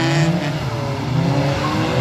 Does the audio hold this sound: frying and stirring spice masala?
no